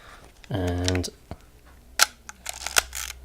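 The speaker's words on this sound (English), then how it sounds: "one titanium shutter" A Leica M3 camera fitted with a titanium shutter fires with a crisp mechanical snap, preceded by a brief voice and followed by small handling clicks and rustles up close.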